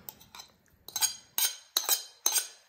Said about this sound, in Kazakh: Енді осыны қосып араластыратын боламыз